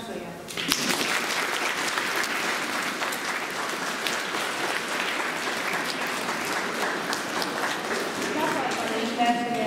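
Audience applause at a school awards ceremony, sustained dense clapping from a crowd that continues evenly for several seconds with a few louder claps near the end.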